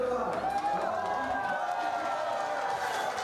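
A crowd at a bobsleigh World Cup race in Sochi cheers in a steady, distant roar under a commentator's voice, with a faint rushing rumble across the whole stretch.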